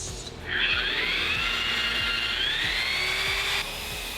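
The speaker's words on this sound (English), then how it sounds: "so I'm going to cut a new dash panel" A power tool whines steadily as it cuts a new car dash panel for a cover plate, a loud sustained high-pitched drilling tone that starts after a brief pause and runs unbroken for several seconds.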